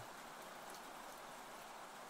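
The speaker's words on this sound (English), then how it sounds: "And I focus on the sounds of the rain." Rain falls steadily outside an open window, a soft, even hiss with no distinct drops, fairly faint and unbroken, and nobody speaks.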